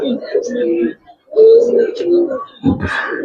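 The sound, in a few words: silver Giribaz pigeons cooing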